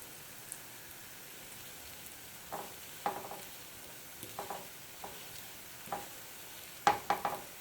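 Dosa cooking in sesame oil on a pan, a soft continuous sizzle with scattered sharper crackles and pops that cluster near the end, fairly quiet, with no talk.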